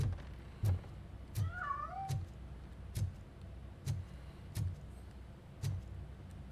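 A cat meows once in the first-person game RoboCop: Rogue City, set in a house near a piano, a short rising and falling call amid regular footstep-like thuds and a quiet ambient bed.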